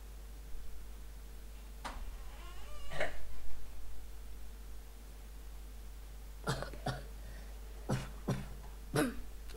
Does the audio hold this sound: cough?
yes